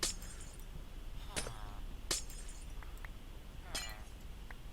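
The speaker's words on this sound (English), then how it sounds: "So I can now clear all this extra glass away." Glass blocks are broken and cleared in a Minecraft-style game, four sharp glassy shattering clinks spaced irregularly, fairly faint over a quiet background hiss.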